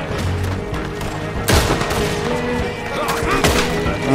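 Rapid gunfire in Red Dead Redemption 2 during a shootout, a dense volley of loud, close cracks with a sharp burst midway and further shots trailing after, no speech.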